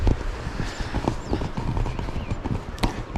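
Horses carrying loads walk along a mountain trekking trail in Pakistan's Siran Valley, their hooves clip-clopping in a steady, fairly close rhythm over a busy outdoor background.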